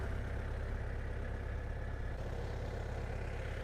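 A DTZ 5404 tractor pulling a plough through heavy black soil gives a steady, loud low engine drone that runs continuously and evenly, with no voices.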